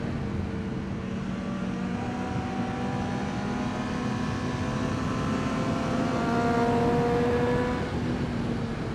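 A motorcycle lapping the race track at New Jersey Motorsports Park during rider training, its engine droning steadily as the rider rolls on the throttle, the pitch climbing gradually, heard continuously with a steady rush of wind.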